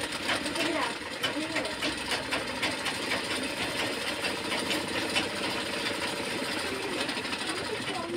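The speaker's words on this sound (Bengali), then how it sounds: "আমি এখন সেলাই করবো" A sewing machine stitches doll clothes with a continuous fast mechanical whirr and chatter, steady and close throughout, with a voice faintly present over it.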